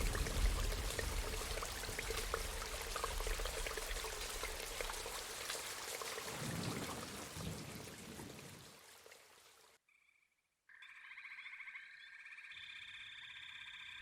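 Steady rain falls as a dense, loud hiss that fades and stops near the ten-second mark, then gives way to sustained electronic tones with no voices.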